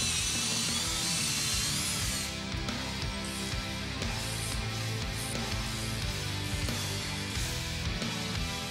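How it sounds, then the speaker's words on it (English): A power drill whines steadily and loudly, grinding continuously through metal threaded bosses on a Jeep Gladiator JT, drilling them out to a larger size, with slight shifts in pitch and load. "we need to drill and tap these threaded bosses out to a larger size"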